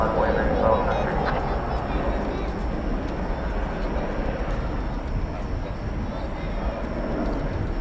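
Cargolux cargo aircraft taxiing at DFW airport at night, a steady broad low jet engine roar that holds constant throughout, with faint radio chatter mixed in.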